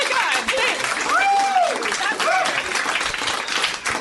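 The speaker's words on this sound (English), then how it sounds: "I'm able to accept your applause." Sustained audience applause filling a comedy show venue, dense and steady throughout, with a voice speaking briefly over the clapping.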